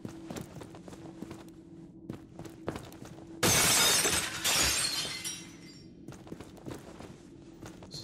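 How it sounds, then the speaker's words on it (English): Glass shatters loudly in the first-person shooter Trepang 2, one bright crashing burst with a scatter of tinkling shards that fades over about two seconds, set between quiet scattered footsteps and taps. "This is a lot of glass breaking I gotta do."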